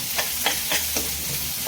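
Cumin and red chili powder fry with spices in a pan, a steady loud sizzle broken by several rhythmic stirring scrapes close by, with no talk.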